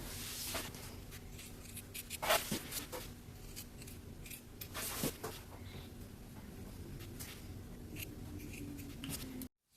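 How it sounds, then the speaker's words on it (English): Scissors snipping the corners of a sewn fabric pillow cover, a series of crisp, close cuts spaced irregularly with quiet rustling of fabric between them and no talking. "Now I'm going to take some scissors and we're just going to trim the corners"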